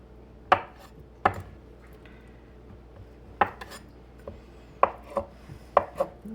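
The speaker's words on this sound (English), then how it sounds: "I'm gonna cut mine just a little small" Knife cutting vegetables into small pieces on a board, a handful of sharp, separate chops spaced a second or so apart against quiet room tone, no talking.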